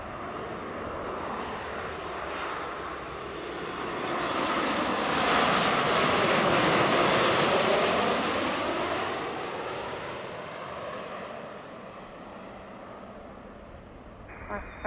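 Heavy jet airliner passing at Seattle airport, engines swelling from a distant roar to a loud, broad rumble overhead before fading away, with faint radio talk beneath.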